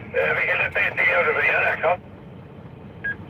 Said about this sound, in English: This is the amateur radio.